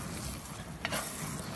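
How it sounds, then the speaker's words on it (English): Iowa sweet corn stirred in a Martin cast iron pan over an open fire: a constant close crackling sizzle with one brief scrape of the utensil midway, alone without speech. "So we're going to give the corn a stir here with that."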